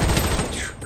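Rapid automatic fire from an M4A1 rifle in the shooter game Project BloodStrike, a close, loud, sustained burst that trails off near the end.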